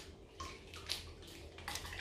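Cold water poured from a jug onto flowers in a hat box arrangement with floral foam, a faint close trickle and splash in several soft bursts.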